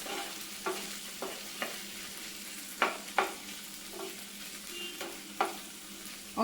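Okra for a Kerala sadya dish frying in a pan, stirred now and then: a steady soft sizzle with several sharp scraping strokes of a spoon against the pan spaced a second or so apart, close and clear, with no talk.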